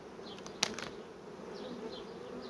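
Continuous buzzing of many honey bees at a hive close by, a steady droning hum with one sharp click partway through.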